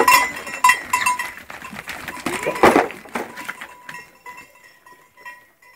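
Sheep bleating in a field at a small farm, several loud calls close by at first, then fading into quieter rustling and movement as the flock settles.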